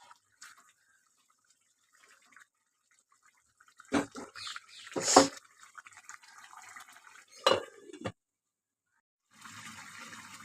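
A lid placed on a pot of fish curry with tilapia and bhola fish, a couple of clanking metallic knocks and scrapes between quiet gaps, close and moderately loud, followed by a faint hiss.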